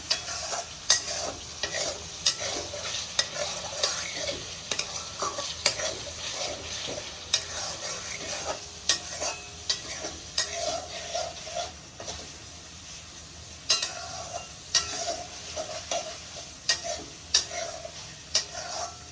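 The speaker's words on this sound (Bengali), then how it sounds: "ঘিটা দিলাম, দিয়ে এবারে একটু আমি নাড়বো।" Spices being stirred in hot ghee in a pan while making shrimp malai curry: continuous sizzling overlaid with repeated scraping strokes of a spoon against the pan, close and uneven in rhythm, with no talking.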